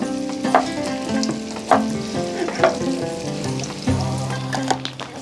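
Cauliflower pieces frying in hot oil for chilli gobi, a steady loud sizzle broken by repeated sharp scrapes and clinks of a stirring ladle, heard alone without talk.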